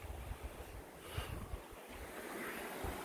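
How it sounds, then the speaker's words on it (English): Steady rushing water flows continuously at a moderate distance, a soft broadband wash with a little wind, no voices. "Enjoy the sound of the creek."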